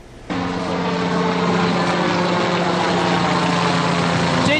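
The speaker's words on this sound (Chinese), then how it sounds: "十五架直升机要依序飞上天际。" Army helicopters, including a UH-1H utility helicopter and Cobra attack helicopters, flying in a military air display, a loud steady rotor and engine drone that starts abruptly and holds for several seconds with no talk.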